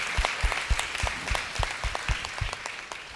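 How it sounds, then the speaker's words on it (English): A church congregation claps together for a visitor, a steady rhythmic run of distinct, fairly close handclaps landing in a loose, roughly regular beat throughout. "Let's give a clap offering to him."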